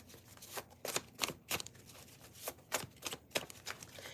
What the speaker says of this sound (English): I was told to do 3 shuffles, so now I'm finna do them.